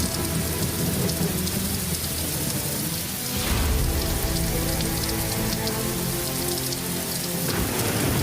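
Heavy rain pours steadily on a surface during a storm, loud and dense throughout, with a deep rumble of thunder rolling in partway through; no voices.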